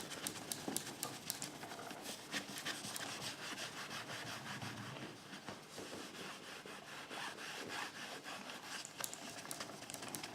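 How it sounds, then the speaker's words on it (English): Buffing cloth rubbing back and forth over a brass sheet being polished to a mirror finish, a steady close scrubbing friction with repeated strokes running continuously, no talk. "So this is a buffing cloth."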